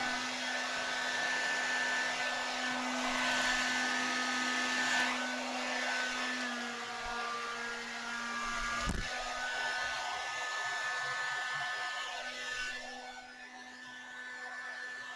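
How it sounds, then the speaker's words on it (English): A hair dryer on cool with high speed blows steadily over an acrylic Dutch pour painting, a constant close whooshing hum with a faint tonal whine, with no talk. "I'm going to take the blow dryer and I'm going to blow this over the colors"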